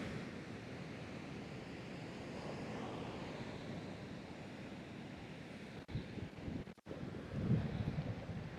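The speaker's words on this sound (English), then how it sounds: "Whoa, that's a big wave." Ocean waves break and roll onto a beach in a steady low roar, with wind buffeting the microphone and a couple of sharp handling bumps near the end.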